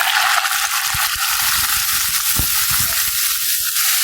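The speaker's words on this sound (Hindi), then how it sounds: "लहसुन को हम ब्राउन करेंगे तो इससे हमारा चिकन भी अच्छे से फ्राई होगा" Boneless chicken cubes, 400 grams, frying with garlic browned in a pan, a loud, constant hiss of sizzling oil with a few low thumps of stirring.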